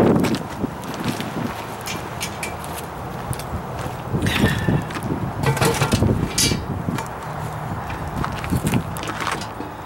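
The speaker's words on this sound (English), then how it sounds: "It's so cold and windy out here." Cold wind gusts across the microphone outdoors at an RV campsite during Dutch oven cooking, a rough, fluttering rumble that rises and falls throughout with scattered handling and rustling noises.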